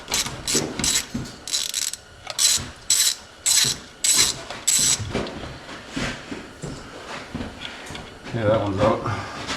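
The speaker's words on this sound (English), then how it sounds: "probably get it with a 1/2 inch wrench" Ratcheting wrench working a rusty bolt on a 1978 IH Scout II barn find: bursts of quick mechanical clicks in short runs, close and fairly loud, with people talking now and then between them.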